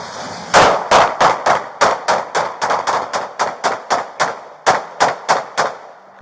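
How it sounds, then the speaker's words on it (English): Rapid volleys of gunshots fired at police officers during an officer-involved shooting, caught on a body-worn camera, around twenty sharp cracks in an uneven rapid string, loud and close, with no speech over them. "In this body-worn camera video footage, Smith is observed firing shots at officers"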